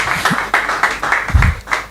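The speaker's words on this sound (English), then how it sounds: "Please, a round of applause for Dami once again." An audience claps in fast, evenly spaced bursts, loud and close, with no voices over it.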